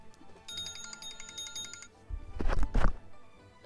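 A phone rings with a short electronic ringtone pattern, followed by muffled handling noises, close and moderate in level.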